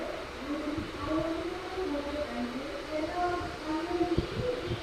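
A passenger train pulls out of Ernakulam Junction railway station, with a low rumble and rolling wheel noise heard from on board, plus faint wavering tones and a few clanks over a steady background.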